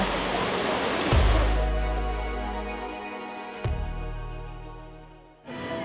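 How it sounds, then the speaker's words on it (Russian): A steady rush of falling water from an artificial waterfall in South Korea, a constant broad roar with low rumbling beneath it, swelling slightly near the end. "И, кстати, по секрету, этот водопад искусственный."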